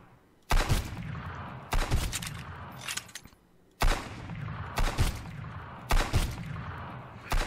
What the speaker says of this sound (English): The pistol is not doing too well aim-wise.